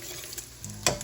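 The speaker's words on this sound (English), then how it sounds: "If you walk past a pot of grits while they're cooking, you gotta stir." A spoon stirs a pot of cooking grits with soft scraping strokes over a low bubbling simmer. One sharper clack near the end stands out.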